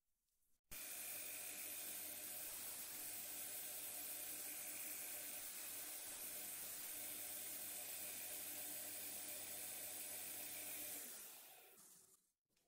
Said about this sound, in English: Literally 2 seconds and the drill bit is sharpened.